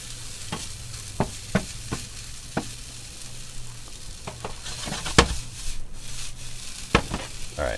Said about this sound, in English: You just want to stir it around, get everything nice and coated with the butter, get the seasoning mixed in there a little bit.